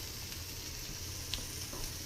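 Breakfast sausages sizzle and brown in a frying pan, a steady, soft crackling hiss with a faint pop or two, close but quiet, no voices.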